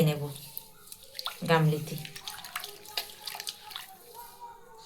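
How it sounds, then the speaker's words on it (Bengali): Water swirling and splashing inside a blender jar as leftover batter for pitha is rinsed out, a close, continuous wet churning with someone speaking over it. "দিয়ে মিক্সিটাকে ভালো করে ধুয়ে চারিদিকে যে লেগে আছে ব্যাটারটা নিয়ে নেব।"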